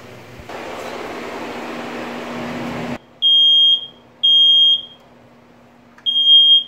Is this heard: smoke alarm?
yes